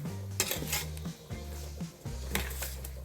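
A spoon scrapes and clinks against a bowl as chicken is mixed with yogurt, chilli powder, salt and lemon juice for a spicy biryani marinade, giving irregular metallic taps and dull knocks close by.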